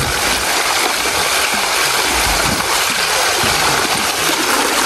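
Cool water gushes steadily out of an irrigation channel outlet, a loud, continuous broadband rush and splash with no pauses.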